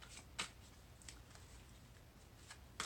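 Tarot cards being shuffled by hand during a psychic reading, heard as a few soft, close riffles and taps spread across a quiet background, with sharper snaps near the start and end.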